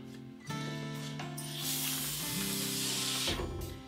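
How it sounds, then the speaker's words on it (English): A plastic scraper pulled nose to tail along a waxed snowboard base, stripping off excess wax and grime: a steady, close, loud scraping hiss with a sharp edge that holds for several seconds, with no talk over it. "grab your scraper, go from nose to tail, and pull some of that excess wax and grime off"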